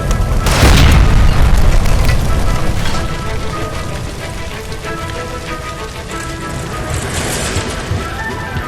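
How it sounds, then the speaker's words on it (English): A gas line explodes in the L.A. Noire video game, a loud deep boom that rolls into a long crackling, rain-like debris patter and rumble as it fades. "Shoot the gas line, Cole, we're out of here!"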